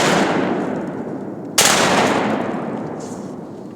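A shotgun fires during a timber duck hunt in Arkansas, one loud blast landing partway through over a roaring wash of outdoor noise, followed by a slowly fading echo.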